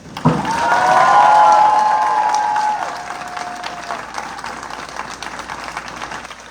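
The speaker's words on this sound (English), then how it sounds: "can you all give me a huge round of applause?" A stadium crowd claps and cheers for a marching band taking the field at a preview night, with a loud swell of applause and whoops that fades over several seconds.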